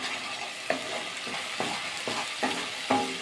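Spice paste sautéing in oil in a pan, a soft steady sizzle broken by regular spatula scrapes about every half second, close and fairly quiet, without speech.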